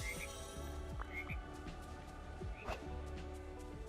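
Frogs croaking in the Disney Dreamlight Valley video game, with repeated short, throaty croaks over a steady ambient background; a voice is faintly present.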